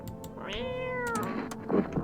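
A cat meows in a video game: a rising and falling meow stands out in the middle, with short clicks and soft game noises around it and no talk.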